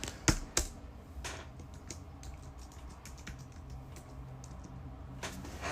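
A run of keystrokes on a computer keyboard as a password is typed, with a few sharper taps near the start followed by steady light clicking at close range under a faint room hum.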